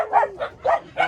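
Several dogs bark in quick repeated bursts on a street at dusk, four or five sharp yaps spaced about a fraction of a second apart, fairly close and clear with no talking over them.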